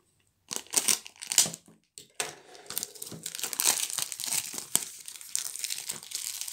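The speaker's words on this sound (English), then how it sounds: "so much protective cellophane on these things" Protective cellophane wrapping is crumpled and peeled off a boxed Mini GT Kaido House Nissan Skyline GT-R R34 model car. The crackling is close and continuous, broken by a brief pause early on.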